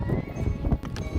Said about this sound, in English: get your horse to gallop.